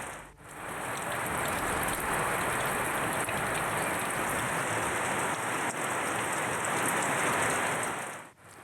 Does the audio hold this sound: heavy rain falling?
yes